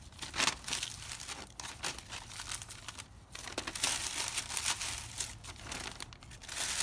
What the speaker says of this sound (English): I just got the Ziploc plastic bag, and I'm just going to put all of the bulbs in here.